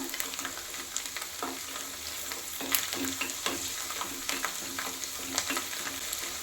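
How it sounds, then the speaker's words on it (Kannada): Garlic frying in a pan for garlic chutney, a soft, continuous sizzle with frequent scraping and stirring strokes spread across the whole stretch, fairly quiet but close, with no one speaking. "ಚೆನ್ನಾಗಿ ಫ್ರೈ ಮಾಡ್ಕೋಬೇಕು ಚೆನ್ನಾಗಿ ಫ್ರೈ ಮಾಡಬೇಕು ಇದನ್ನು"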